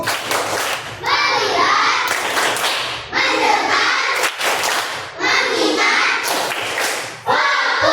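Children in a classroom doing a rhythmic focus clap, bursts of loud unison hand claps alternating with group chanting voices, close and energetic.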